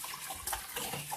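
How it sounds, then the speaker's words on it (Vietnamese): Clear stream water pouring from a pipe while a pig is cleaned after scraping off its hair, a brief, soft, steady splashing gush. "Nước ở đây nước chảy ra là lấy từ trên suối, hoàn toàn nó là trong và sạch và hoàn toàn là tự nhiên"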